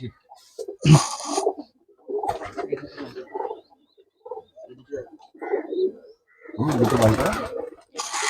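Murshidabadi tumbler pigeons coo in short bursts close by, with people talking in between.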